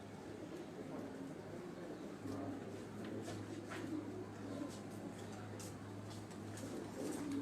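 Breeder pigeons kept in pairs on a rooftop coo softly and repeatedly, faint beneath a steady low hum and general background noise throughout.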